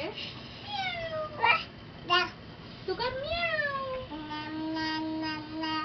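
A pet cat meows repeatedly in a home, several drawn-out, rising and falling calls close by, with a young child babbling and an adult talking around them.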